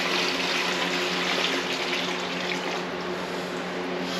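Submerged pump circulating about 5 gallons of water while cleaning the bottom case of a 1976 Yamaha XS650 motorcycle, a steady watery churning with a low motor hum beneath, continuous and close for the whole stretch.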